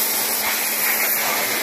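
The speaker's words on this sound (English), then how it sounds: "What we're doing today is just pressure washing." Pressure washer spraying oily engine parts from a Honda K20 engine block and intake, a loud, steady, close-up hiss of high-pressure water with no talk.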